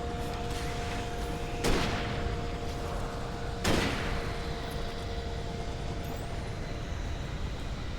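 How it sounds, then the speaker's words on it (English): A flare gun firing in Alan Wake: two sharp shots a couple of seconds apart, each with a brief ringing tail, over a dense, rumbling game ambience and a steady tone. "I'll use flare gun"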